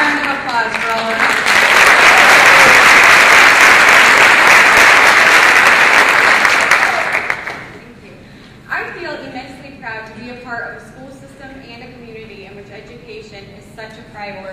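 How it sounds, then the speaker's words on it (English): A large crowd at a teacher of the year ceremony breaks into loud, sustained applause lasting several seconds, then fades as a speaker resumes talking. "one more big round of applause for all of us"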